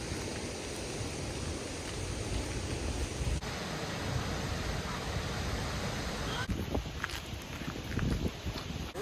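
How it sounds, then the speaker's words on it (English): A waterfall on an Iceland road trip roars as a steady, dense, broadband rush of falling water, continuous and fairly loud throughout with no clear breaks. "Here's another waterfall."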